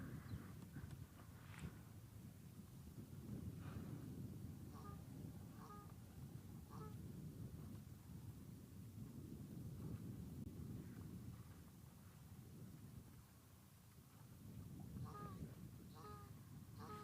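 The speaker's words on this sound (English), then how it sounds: "Normally it's the Egyptian goose" Egyptian goose honking outdoors, repeated short honks at a moderate distance over steady background noise from the surroundings.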